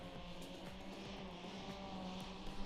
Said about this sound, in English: We can hear the engine going on full power.